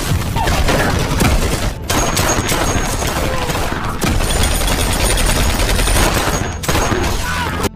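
Dense gunfire rips through an action film shootout, loud continuous bursts of rapid shots and booms with brief gaps, heavy and close throughout.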